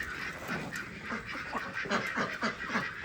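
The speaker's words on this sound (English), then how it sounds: "Peking ducks." Several Peking ducks, including a couple of males, quack repeatedly in uneven bursts on a farm, moderately faint against a steady outdoor background.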